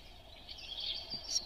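A night light sound machine plays a nature track of running water with small birds chirping over it, a soft, steady hiss with high chirps that grow a little busier toward the end.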